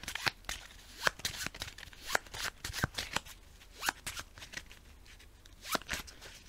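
A card being shuffled into a deck during a Cartographers board game session: a run of sharp, crisp riffling clicks and snaps at an irregular rhythm, close and fairly quiet, with no talk.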